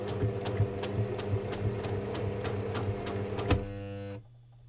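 A sewing machine runs a second line of stitching alongside a first seam, a close, steady mechanical whir with a rhythmic needle clatter that stops abruptly near the end, leaving a faint hum.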